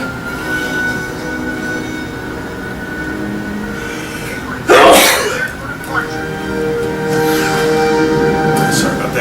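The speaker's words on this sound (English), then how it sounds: "I sneeze while doing my Let's Play narrations all the time." A single loud sneeze bursts out about halfway through, standing well above a steady low background hum, with faint voice-like sounds lingering around it.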